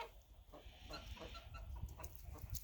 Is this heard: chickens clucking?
yes